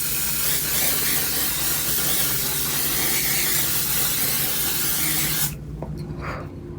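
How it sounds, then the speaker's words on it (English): A steady hiss of makeup setting spray misted close up onto a face for several seconds, cutting off abruptly and leaving near silence. "Pop the top off, and then I just spray my face."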